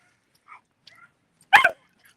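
A dog on a morning walk gives one loud, sharp bark after a couple of faint yips and whimpers, with quiet surroundings otherwise.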